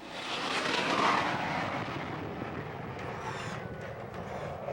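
An airplane passes low near an airport beside a neighborhood in Upper Del Carmen, Davao City, a loud broad roar that swells and then slowly fades as it moves on.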